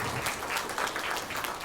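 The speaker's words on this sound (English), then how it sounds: "Let's give a round of applause to all of the students in Mrs. Sims and Mrs. Larkin's class." An audience applauds students in a class at a school pinning ceremony, a short burst of dense, steady clapping throughout.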